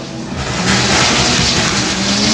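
A BMW E36 compact drift car with a 2.5 engine making 860 horsepower roars loud and close at a drift event, a dense sustained engine blare with rising intensity.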